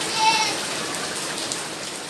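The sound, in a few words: rain falling on outdoor ornamental fish pond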